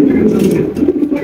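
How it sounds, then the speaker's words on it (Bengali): A pair of Oporichita pigeons at a pigeon sale give soft, low, rolling coos up close, briefly, with a person talking over them. "রয়েছে এক জোড়া অপরিচিতা কবুতর দেখতে পাচ্ছেন"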